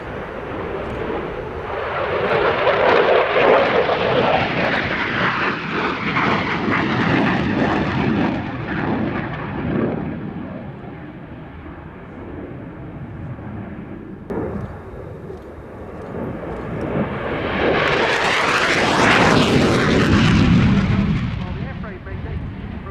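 An F-16 fighter jet roars through an air show display, a loud sustained rumble that swells, fades slightly, then surges again in a sharp rising pass overhead, with a voice speaking beneath it.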